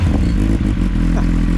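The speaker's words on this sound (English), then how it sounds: "Sound test on the ZX9R. Right, let's get this one fired up." A Kawasaki ZX9R inline-four motorcycle engine is started up and runs with a loud, close, rough low rumble and some mechanical clatter.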